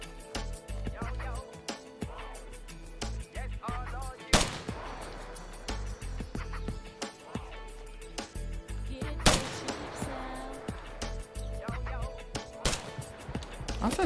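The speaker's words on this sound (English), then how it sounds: "someone's firing at me" Repeated gunfire from a tactical military shooter game in the style of Ghost Recon, a sniper among the shooters, with sharp loud shots and bursts recurring across the clip over a dense battlefield bed, some much louder than others.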